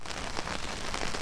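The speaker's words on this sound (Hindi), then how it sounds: "बारिश तेज़ है, तो इधर उधर से पानी आ रहा था" Heavy rain falling steadily on surfaces during a motorcycle ride, a dense, even hiss of drops with no break, close and fairly loud throughout.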